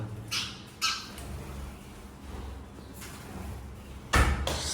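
A trapped bird squawks in sharp, loud bursts indoors, several cries spaced apart with quiet rustling and a thump between them.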